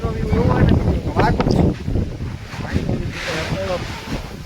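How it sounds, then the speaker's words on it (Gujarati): Strong, storm-like wind in a village, buffeting the microphone in loud low rumbles while someone talks over it. "પવન મિત્રો એવો ને વાવાઝોડું જેવું છે."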